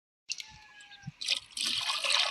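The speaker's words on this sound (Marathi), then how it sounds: "चला आता थोडं मीच ओततो औषध." Liquid pesticide being poured into a bucket outdoors, a close splashing, trickling stream that starts after a short silence and grows fuller and louder toward the end.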